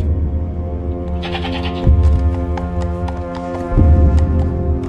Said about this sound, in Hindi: ये बकरा है?